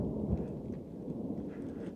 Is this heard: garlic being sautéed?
no